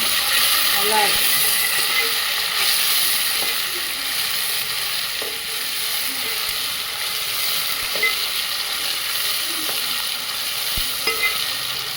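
An onion, chilli and tomato mixture is stirred in a pan for stuffed brinjal curry, a steady close frying sizzle broken by soft scraping spoon strokes throughout.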